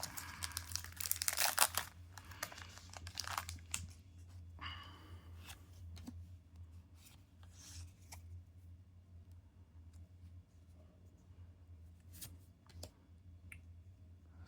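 Foil of a Pokemon card booster pack from a Pitch Black Pokemon Center Elite Trainer Box being torn open: a loud crinkling rip early on, then softer intermittent crinkles and rustles fading into quiet handling.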